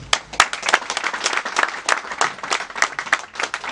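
A crowd at a community project presentation in Akanda claps warmly, a sustained dense patter of many hands, fairly close and loud, with no voices over it.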